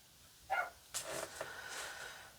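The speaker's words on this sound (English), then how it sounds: "My dog is out there barking again." Dog barking outside at a distance, a couple of faint, muffled barks followed by low background noise.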